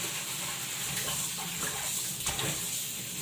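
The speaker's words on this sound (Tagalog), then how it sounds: "mayroon pa pala tayong hugasan na chicken. Kailangan din natin hugasan ng chicken." Raw chicken is rinsed under a running kitchen tap, a steady, fairly close stream of water splashing into the sink with small shifts as the pieces are handled.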